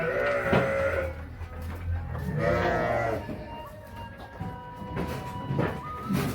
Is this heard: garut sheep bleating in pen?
yes